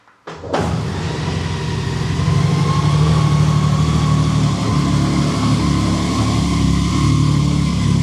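A Honda Goldwing 50th Anniversary motorcycle engine cranks and catches after a brief quiet start, then settles into a steady, close, loud idle with a deep low rumble that holds to the end.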